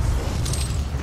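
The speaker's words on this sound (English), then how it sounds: "Explosions!" Explosions in the DOOM video game, Mission 3: Meltdown, a loud low rumbling blast with crackling debris that sustains for about a second, no talking over it.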